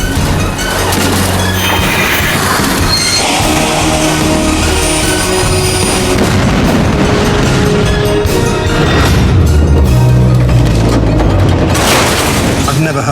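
Two crowded rush-hour commuter trains collide near Paddington station in London, a dense, loud rumbling crash and roar of grinding metal that swells and persists, with a narrating voice beneath.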